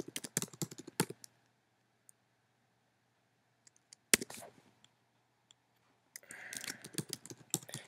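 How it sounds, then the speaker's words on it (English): Someone types an email on a computer keyboard, with quick bursts of close key clicks at the start and again near the end, separated by a mostly quiet stretch with a few isolated taps. "So go ahead and type your email again."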